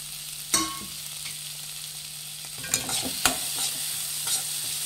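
Grated coconut roasts quietly in a pan for an Ugadi festival dish, with a faint steady background hiss broken by a few sharp spatula scrapes and stirring knocks.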